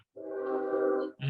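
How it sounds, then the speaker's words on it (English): A train horn sounds once in a sustained, loud blast lasting about a second, then cuts off as another sound begins. "So I got a train finna come through."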